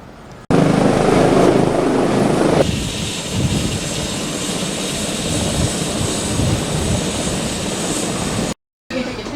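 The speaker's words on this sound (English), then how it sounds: "we're having a look at this A-Star helicopter, which is a CH-45 in this case. Twin turbine." An A-Star twin-turbine helicopter's turbine whine and rotor roar, loud and close, with a sharp drop in intensity after a few seconds and a brief cut near the end.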